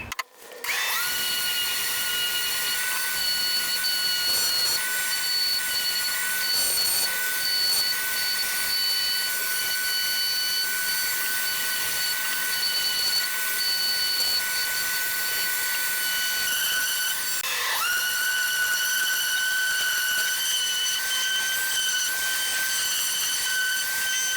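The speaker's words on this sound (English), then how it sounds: "I'm going to just use the sander and sand this down" An electric sander sanding an old wooden cutting board whines steadily and loudly for a long stretch, a constant high buzzing drone with a brief dip in pitch midway.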